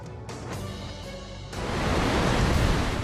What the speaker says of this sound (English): Waves as high as 7 meters pounded homes and businesses on Chile's coastline